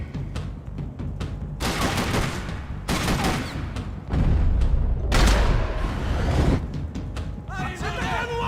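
Sustained gunfire from a Max Payne 3 firefight, dense bursts and heavy booms rolling almost continuously at close range, with brief dips between volleys.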